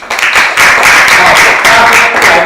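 An audience at a lunchtime lecture on medical dispute law claps continuously and fairly loudly for a couple of seconds, a close, even patter filling the room.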